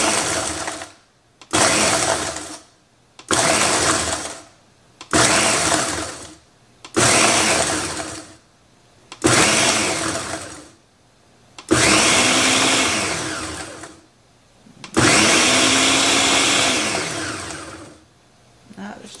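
A kitchen blender pulses peppers into pepper sauce in about eight loud, close bursts of whirring motor noise separated by short pauses, the last few pulses running longer.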